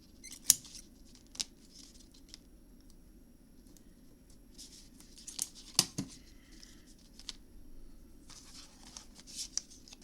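Scissors snip through paper and glue-covered material in a quiet room, with a few sharp crisp cuts spaced out between soft rustling and handling, close and fairly faint.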